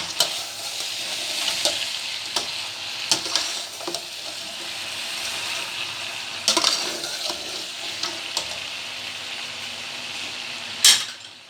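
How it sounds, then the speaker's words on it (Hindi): Chicken and okra frying in a pan, stirred with a utensil: a steady close sizzle broken by repeated scraping strokes and light metallic clinks, with one sharp clack near the end. "अब हम इन्हें अच्छे से मिक्स कर लेंगे।"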